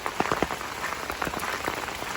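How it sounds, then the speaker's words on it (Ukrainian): Heavy rain from a major storm in South Carolina pours down steadily, a dense hiss with scattered sharper drops and splashes, close and continuous with no speech. "дощ здоровий"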